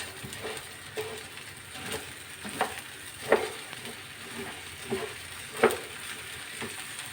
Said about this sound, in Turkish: Böyle pirincimi güzelce kavuracağım arkadaşlar.